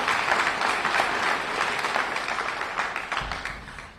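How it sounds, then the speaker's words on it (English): Steady applause from an audience at a groundbreaking ceremony for an early childhood academy charter school, dense clapping sustained throughout and slowly tapering toward the end. "Let's give the council member a big round of applause."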